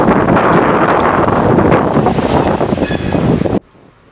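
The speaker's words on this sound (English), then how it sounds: "Here we see a barnyard pull down coming across Indiana Ave with a freshly rebuilt CSX" A freight train led by a freshly rebuilt CSX SD23T4 locomotive roars past at Indiana Ave in Chicago's East Side, a loud, dense rumble with wind buffeting the microphone, cutting off abruptly.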